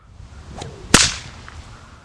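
A whip snaps with one sharp, loud crack during a boomerang whip-cracking move, preceded by a soft swish and followed by a fading ring, with no voices.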